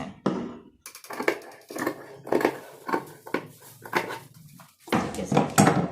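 Scissors cut away excess fabric for a baby girl's frock in a series of close, crisp snips and rustles, coming in irregular bursts with brief pauses between cuts.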